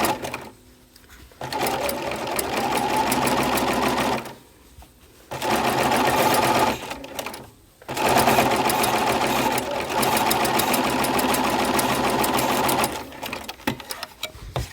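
A sewing machine stitches fabric slowly along a curve while finishing the edges of an Island Getaway quilt, running in several steady whirring bursts separated by short pauses, close and loud with no talk.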